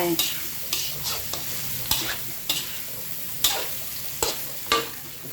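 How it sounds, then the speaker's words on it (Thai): Mushrooms sizzle in a hot pan while a utensil scrapes and stirs them in regular strokes, each push bringing a brief clatter over the steady frying. "ต้องผัดให้เห็ดสุกอีกหน่อย เห็ดไม่ค่อยสุก"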